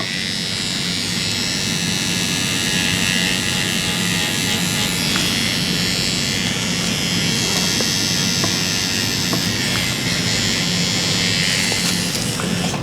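A tattoo machine buzzes continuously with a steady high-pitched electric whine and no breaks, close and even throughout.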